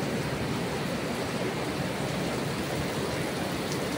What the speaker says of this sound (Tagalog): 4:20 guys, nag-ulan.